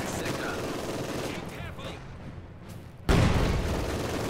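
Machine gun fire rattles in a competitive multiplayer war game, rapid dense bursts mixed with booming impacts, loud and continuous with a sudden heavier barrage near the end, under faint commentary voices.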